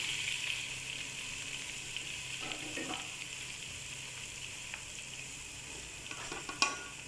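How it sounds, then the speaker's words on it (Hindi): Soft, steady sizzle of curry leaves, cloves, garam masala and dried chilli frying in oil for degi chana pulao, faint and continuous with a few light stirring clinks near the end. "इनको थोड़ा सा फ्राई करते हैं।"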